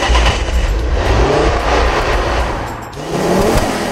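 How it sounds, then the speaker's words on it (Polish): A Ford Focus RS performance car's engine roars loudly and close, revving hard with rising and falling pitch and a brief dip near the end before surging again. "to dźwięk silnika. Proszę posłuchać."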